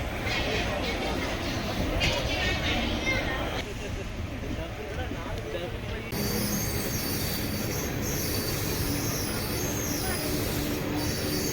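Chennai Egmore Express train standing at Madurai station among a large evening crowd, with steady rolling rumble and wheel noise throughout, a brief squeal of wheels, and crowd voices murmuring over it.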